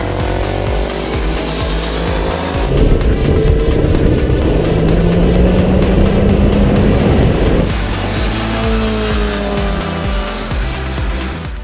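A 2015 BMW S 1000 RR sportbike on a race track, its engine revving loud and close, pitch climbing and dropping through gear changes, with a sustained high-rev roar in the middle.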